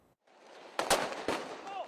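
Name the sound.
fireworks and flares at street protest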